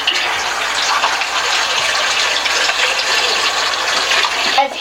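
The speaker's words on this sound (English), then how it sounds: "So Dale, you want to put these in water now? Mm-hmm. Let's cold water in there." Cold tap water gushes steadily into a container of sliced potatoes for chips, a loud, continuous rushing pour that cuts off abruptly near the end.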